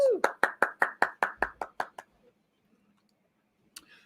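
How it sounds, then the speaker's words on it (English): Brief clapping for a staff member at the ALTAs awards: about eleven sharp, evenly spaced claps in a quick steady rhythm, close and distinct, then quiet with a faint rustle. "Give her a big round of applause, please."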